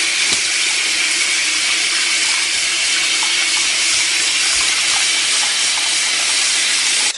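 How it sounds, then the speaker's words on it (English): Water from a tap pours into a sink that is filling up, a loud, steady hiss of running water with no breaks and no talking. "start filling up your sink with water"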